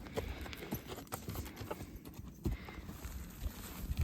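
Horses in a fenced pasture in Finland step about with irregular clip-clop hoof sounds at close range, with soft thuds and rustling and no talk.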